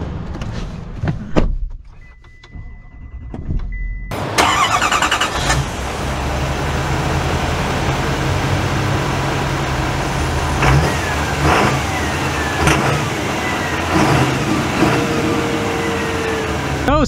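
A 2023 Chevy Silverado HD with the 6.6L Duramax diesel pulls away and drives, its engine rising from a brief quiet start into a loud, steady drone that holds for the rest of the stretch, heard from inside the cab.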